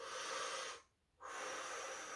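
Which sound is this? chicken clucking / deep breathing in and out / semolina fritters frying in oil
deep breathing in and out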